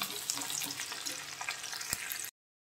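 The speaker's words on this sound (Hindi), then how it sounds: "प्याज लहसुन को हल्का भूरा कर लेंगे।" Onion and garlic fry in a pan for chaulai saag (amaranth greens): a loud, dense, steady sizzle with stirring clatter and one sharp utensil knock near the end before it cuts off abruptly.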